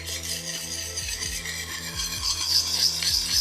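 A survival knife blade drawn in repeated strokes across a sharpening stone, a close, steady rasping scrape with evenly spaced strokes, no talking.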